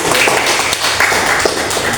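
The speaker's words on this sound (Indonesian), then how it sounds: "Oke, luar biasa, tepuk tangan dulu" A classroom of students applauding, a dense continuous patter of clapping hands throughout, with faint voices mixed in.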